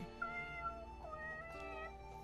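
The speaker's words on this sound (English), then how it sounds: "I picked up the cat, who'd been curled up in a corner of my room, and held her close to me." In a video game, a house cat meows softly a few times over a sustained musical drone, near and clear with no talking.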